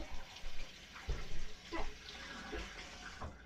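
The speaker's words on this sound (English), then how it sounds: "I'm gonna go wash my hands." Tap water runs steadily into a sink as hands are washed in a home kitchen, a soft continuous splash with uneven bursts of louder spattering, fairly faint and heard without talk.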